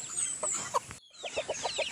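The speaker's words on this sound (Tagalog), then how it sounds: "ito nga pala guys yung mga 45 days na mga sisiw na inaalagaan ko" Backyard chickens cluck close by in a short series of soft, rhythmic clucks. A brief pause falls in the middle, then a quicker run of clucks follows.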